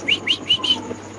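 A dragon pigeon held in hand at a pigeon sale gives four quick, close squeaky chirps in a row, then falls quiet against a low background hum.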